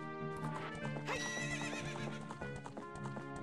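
Horse in The Legend of Zelda: Ocarina of Time neighs loudly and gallops, with a steady clip-clop of hooves running under the whinny throughout, close and clear over game sound.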